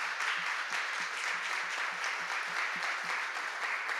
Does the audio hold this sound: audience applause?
yes